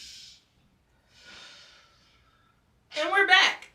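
A person takes a deep breath in, with soft airy inhales and breathy exhales separated by pauses, ending in a louder, voiced sigh-like breath.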